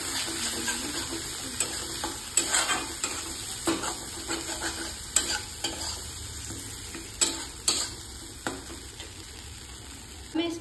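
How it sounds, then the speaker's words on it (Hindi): Cumin, coriander and other spice powders being stirred in a hot pan for a dhaba-style egg curry: a steady low sizzle broken by repeated scraping clacks of a spoon against the pan, close and fairly quiet. "जीरा पाउडर, धनिया पाउडर, थोड़ा सा गोलकी पाउडर देकर मिक्स करूंगी।"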